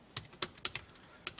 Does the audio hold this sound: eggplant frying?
no